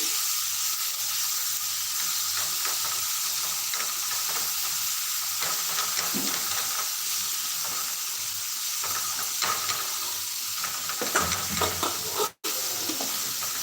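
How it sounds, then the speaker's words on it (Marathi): Masala roasting in a pan over a medium flame, with a steady, close sizzle and intermittent scraping stirs throughout and a brief drop near the end. "मध्यम आचेवर या मसाल्याला व्यवस्थितशीर भाजून घ्यायचं"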